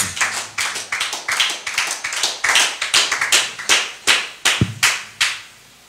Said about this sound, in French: Il est Dieu. Acclamons Jésus. Acclamons Jésus.